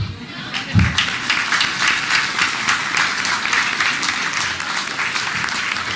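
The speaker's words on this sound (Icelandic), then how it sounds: "Eigum við ekki að gefa þau gott klapp?" A room full of people claps warmly at a retirement gathering to honor a couple's wedding anniversary, with brisk continuous applause and a short thump near the start.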